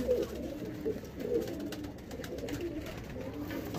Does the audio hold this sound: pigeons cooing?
yes